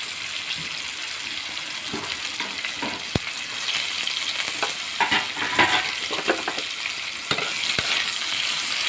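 Ginger paste and tomato with green chilli frying for a potato curry, a loud continuous sizzle with spoon scraping and stirring in the pan, plus a couple of sharp knocks.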